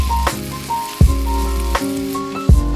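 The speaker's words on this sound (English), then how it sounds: "So these guys are frying away" Food sizzles and crackles steadily in a hot pan, with a few louder clanks and scrapes of utensils against it at intervals.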